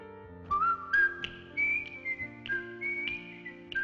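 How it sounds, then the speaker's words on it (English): The whistled theme from The Andy Griffith Show plays as a clear, melodic tune, bright whistling over a soft accompaniment, loud and up front with no talking. "Andy Griffith's whistling theme song."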